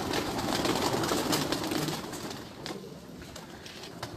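A flock of pigeons coos and rustles close by, forming a dense, continuous murmur of soft calls and flutters that fades slightly toward the end.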